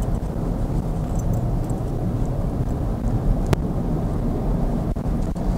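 Volkswagen Polo United hatchback driving with its turbo engine straining in fifth gear at about 70 km/h, heard as a steady, fairly loud low drone and road rumble from inside the cabin, with no talk over it.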